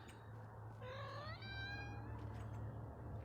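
A pet cat sitting right beside the microphone gives a single drawn-out, rising meow over a low steady background hum, close and clear, with no talking.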